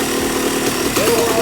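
A 7.50 class truck engine idling as it warms up, a steady low rumble close by, with a voice speaking over it partway through.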